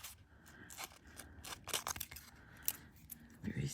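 Scissors trimming sticky aluminium metal tape for tape art, a few quiet, close snips and scrapes with faint background sound.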